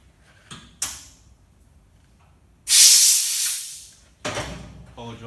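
Compressed air from a shop compressor blasts through an injector cap during diesel injector removal on a Toyota Hilux Vigo, a loud, close hiss of about a second and a half, framed by faint knocks and handling noises before and after.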